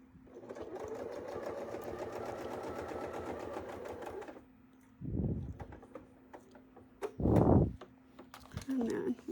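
A sewing machine stitches an apple core template design with a steady, continuous whirring run for about four seconds, then stops, followed by a few short thumps and handling noises.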